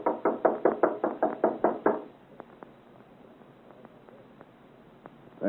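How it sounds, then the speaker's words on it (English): Loud knocking on a door, a fast run of about eleven heavy raps lasting two seconds, followed by quiet room tone with a few faint clicks. "Knock loudly. Wake the gentleman up."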